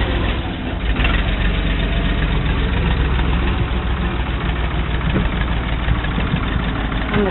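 A low, steady tractor engine idles continuously up close, a heavy rumbling drone with no talk over it.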